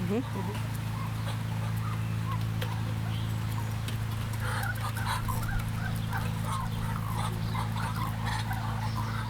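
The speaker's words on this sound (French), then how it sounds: "nous avons un petit élevage canard" Ducks on a small duck farm quack and chatter in bursts against a steady low background hum, with other farm birds mixed in.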